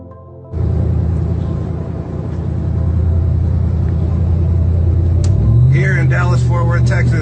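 A vehicle cruising down highway 183 in Dallas-Fort Worth, Texas, with a loud, constant low road rumble and engine drone close by, a voice talking over it toward the end.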